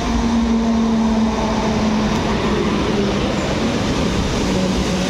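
A short train at Łowicz Główny station after a hot day, rumbling loudly and steadily close by with a constant rolling drone and faint wheel squeal throughout.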